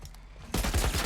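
A military turret in The Last of Us opens up abruptly after a quiet moment, a loud, dense burst of rapid automatic fire.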